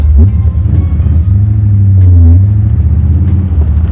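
A 1932 Ford roadster with a big-horsepower engine and carburetor rumbles loudly and deeply up close, swelling slightly as it revs mid-way before settling back to a steady throaty idle.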